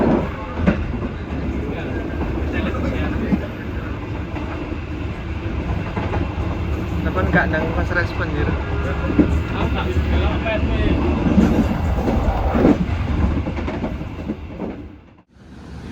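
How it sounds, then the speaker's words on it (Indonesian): A commuter line train rolls along the rails toward Waru station at night, its steady rumble and rhythmic clatter filling the cabin while a voice talks nearby. "Perjalanan kereta komuter line Supas telah tiba di stasiun Waru."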